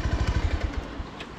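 A motorcycle engine idles at close range while the bike is parked during an off-road trip near Mandi, with a steady low, pulsing putter under faint broadband noise.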